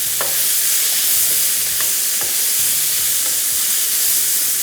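Chicken topping frying over a high flame sizzles in a loud, continuous hiss, with a few faint clicks and scrapes scattered through and no talking.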